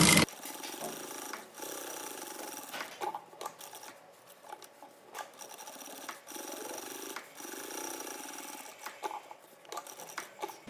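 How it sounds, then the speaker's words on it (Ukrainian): A sewing machine runs in steady stretches while stitching a seam for a welt pocket with a zipper, its whirring motor pausing briefly between runs, close and moderately loud with no speech. "починати строчку потрібно, відступивши від верхнього краю 2-3 см."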